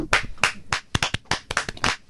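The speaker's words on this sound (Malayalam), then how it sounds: "അതിന് എനിക്ക് ഒരു ചെറിയ കൈയടി തരാം" A small audience gives a brief, scattered round of hand claps during a Malayalam talk-show interview, about a dozen sharp, uneven claps close by over two seconds, with no talking.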